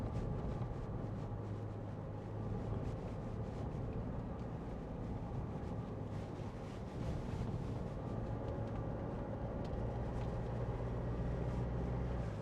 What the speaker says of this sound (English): Nice comfortable ride out here over all these bumps.